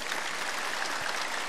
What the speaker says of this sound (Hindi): एक बार जोरदार ताली बजा दो इसके लिए।